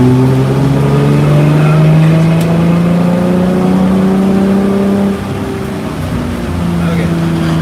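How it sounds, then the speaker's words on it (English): A race car pulls hard in third gear on a wet track, its engine droning loud and close and rising steadily in pitch, with a brief dip near the end. "I can't gas it till I'm straight."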